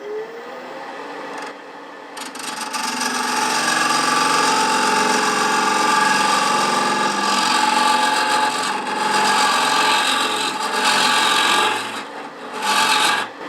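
A round nose scraper bites into a wooden globe ornament spinning on a wood lathe, hollowing it out with a loud, continuous rasping scrape that surges and eases in waves, with brief dips as the tool lifts away.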